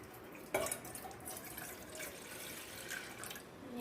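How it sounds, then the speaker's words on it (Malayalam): Water runs and splashes steadily into a pan, starting with a sharp splash and continuing as a close, noisy pour with no talking. "വെള്ളം ഒഴിച്ചു."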